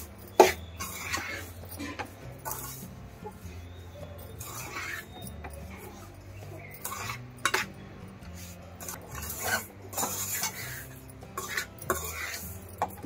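Laddu mixture being stirred in a pan on a low stove flame, with intermittent scraping and clinking of a utensil against metal, a few coughs and some faint background voices.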